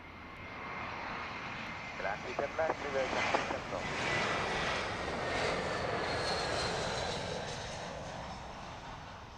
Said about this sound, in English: It's an A319 coming in from Geneva.